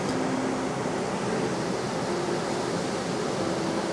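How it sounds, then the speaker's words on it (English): Steady, broadband rushing of the Dao Dong waterfall on the Nang River near Ba Be Lake, Vietnam, fills the whole clip, a constant roar without breaks. "This here is the Dao Dong waterfall."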